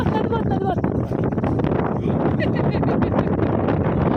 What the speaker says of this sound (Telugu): అమ్మో ఏం గాలి కొడుతుందంటే అంత గాలి కొడుతుంది.